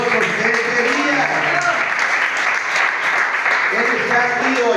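A church congregation applauds in praise during a sermon, a full, steady burst of clapping with voices mixed in beneath it, holding at a strong level throughout.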